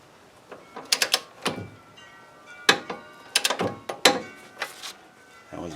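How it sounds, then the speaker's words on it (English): A torque wrench tightening spindle bolts on a 2007 Honda Accord, a series of sharp metallic ratchet clicks and clacks in irregular bursts, close and crisp. "I've got the torque wrench set to 32 pounds"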